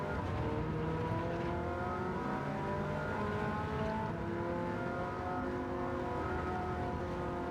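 Ferrari 308 GTB racing in Gran Turismo 7 at Le Mans, its engine holding a steady, continuous high-revving drone with shifting pitch, loud and close with no talk over it.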